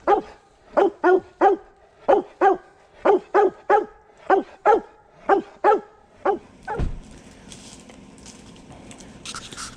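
A hunting dog barking outdoors after finding a downed deer, a steady series of about fifteen loud, close barks, followed by rustling and handling noise.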